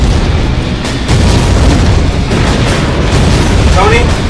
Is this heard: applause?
no